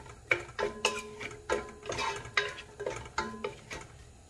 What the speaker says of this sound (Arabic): وغادي نحرك